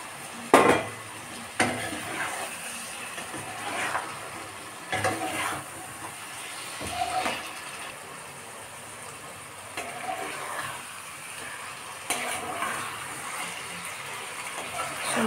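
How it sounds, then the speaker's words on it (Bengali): Chicken and spice paste are stirred in a pan over medium heat, with soft sizzling and scattered sharp scrapes and clinks of a utensil against metal at irregular intervals, fairly quiet and close. "এর মধ্যে আমি দিয়ে দেবো মাংসটাকে দিয়ে ভালো করে আরও কষবো।"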